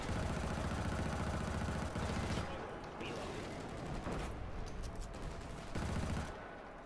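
Gunfire in a Killzone: Shadow Fall multiplayer match, with dense bursts of automatic fire and battle noise that stop and restart, faint in the mix and mixed with game sounds.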